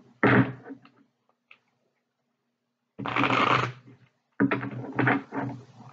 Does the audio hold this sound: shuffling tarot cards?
yes